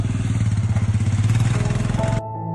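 Motorcycles of a riding team on Himalayan roads, a close, loud rhythmic engine chug that cuts off abruptly near the end, leaving a faint lingering tone.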